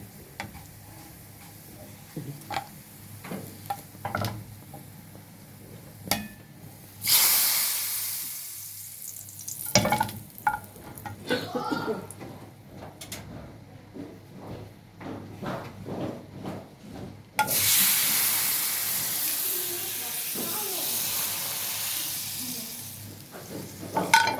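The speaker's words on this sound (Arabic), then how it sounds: "التومه كده اتحمرت" Garlic fries in oil in a pan for sprouted fava beans, with two long bursts of loud, steady sizzling hiss between stretches of clattering and tapping.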